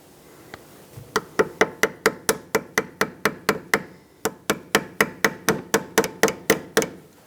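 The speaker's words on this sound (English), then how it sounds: "get a little screwdriver and actually chisel right into the top or the bottom of it" A small screwdriver is hammered like a chisel into a rusted rear ABS sensor on a 2013-2020 Nissan Pathfinder, producing a rapid, even series of about twenty sharp metallic strikes, close and loud, with one short pause midway.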